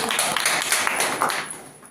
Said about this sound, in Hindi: संजीव कुमार सर के लिए भी एक जोरदार तालियां होनी चाहिए